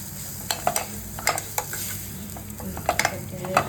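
Ingredients for a country chicken soup are sautéed and stirred in a pan, with a steady low sizzle under repeated scraping and clinking strokes of a utensil against the pan.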